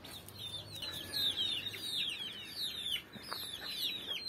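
Repeated clucking and soft calls from chickens nearby, an irregular stream of short notes over a low outdoor hum.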